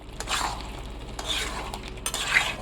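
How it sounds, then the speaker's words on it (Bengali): Boiled taro (kochu) gets stir-fried in a pan as a spoon or spatula scrapes and stirs it, producing soft sizzling with intermittent scraping strokes and light clinks of metal against the pan, close and moderately quiet. "এবার সিদ্ধ করা কচুগুলো দিয়ে আর একটু কষিয়ে নেব।"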